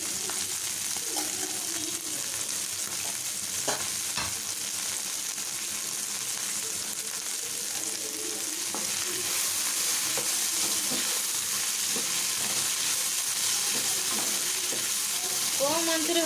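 Okra frying with turmeric and garam masala over low heat, a steady close sizzle running throughout, with occasional scrapes and clinks of stirring in the pan.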